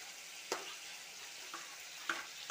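Chopped Moovandan mango goes into a pan of frying bitter gourd curry with turmeric, giving a steady soft sizzle broken by a few sharp clinks and scrapes of stirring.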